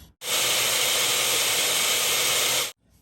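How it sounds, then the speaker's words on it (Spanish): A kitchen blender whirs loud and steady for about two and a half seconds, blending ancho chiles with a small piece of onion, garlic and a little water, starting and stopping abruptly. "y vamos a licuar."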